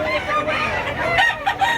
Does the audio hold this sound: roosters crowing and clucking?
yes